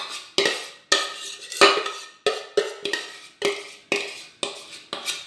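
Pieces of colin fish, potatoes and vegetables are set into an ovenproof dish, giving about nine sharp clinks and knocks at a steady, unhurried rhythm, close by and with no voices.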